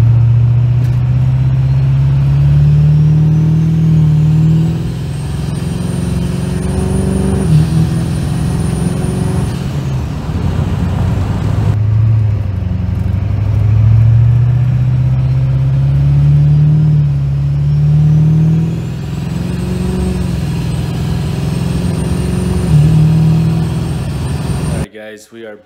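An LB7 Duramax diesel truck fitted with a WoldFab 64mm turbo drives with a steady, loud engine drone and turbo whine that rises and falls across the run.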